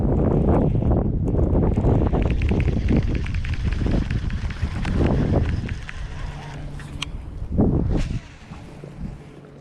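Heavy wind buffets the microphone in a loud, continuous roar while fishing from a grassy bank in a gated community, easing slightly toward the end.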